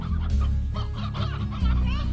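Rooster clucking in the video game Slime Rancher, a quick series of close, loud clucks over a steady low background hum.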